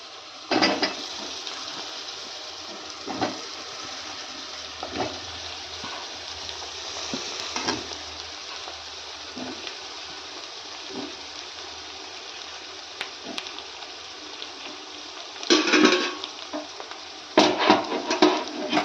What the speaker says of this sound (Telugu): అన్నీ వేసుకున్న తర్వాత ఇలా మిక్స్ చేసుకోవాలండి ఆయిల్లో.